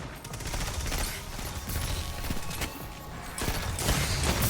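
Rapid rifle gunfire in a wave-based zombie shooter video game, a dense burst of close, loud shots crackling on continuously over the full stretch with no talking.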